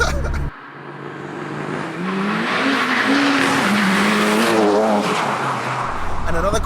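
A 607 bhp Seat Leon Cupra pulls hard through the gears, its engine note climbing steadily while the tyres squeal and skid, loud and close throughout.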